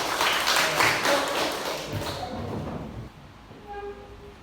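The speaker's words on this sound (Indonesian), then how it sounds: "Oke, tepuk tangan semuanya." A school class claps together, a dense burst of hand claps that gradually thins and fades over a few seconds before falling quiet.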